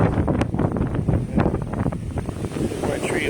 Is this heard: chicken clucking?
no